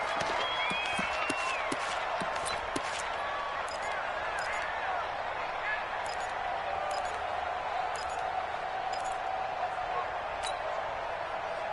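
Crowd clapping and cheering on the sidelines of a PS4 football game featuring the Redskins, a steady wash of applause under continuous commentary and game sounds.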